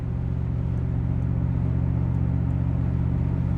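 A 1971 Chevrolet Corvette cruises on a test drive, its engine giving a steady, dense low rumble from inside the car, constant in level with no speech.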